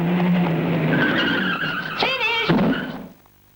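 A car's tires skid and squeal loudly over an engine roar, the screech wavering before cutting off abruptly into near silence.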